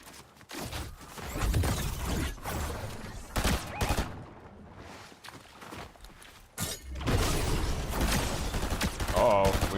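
Rapid bursts of SMG fire in the Fortnite video game, clustered volleys with short pauses between them, loud and close, with a few crashing impacts mixed in.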